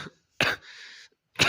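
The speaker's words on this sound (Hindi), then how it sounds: "मुझे तो बहुत खांसी हो रही है" Two or three short, sharp coughs, close and dry, separated by brief pauses, with a faint raspy exhale between them.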